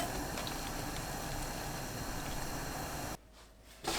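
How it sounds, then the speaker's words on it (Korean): Onions blanch in a pot of salted water already used for tofu, a steady bubbling boil heard close and continuous before it abruptly drops away near the end. "그 물에 바로 양파 넣고 1분 데쳐주세요."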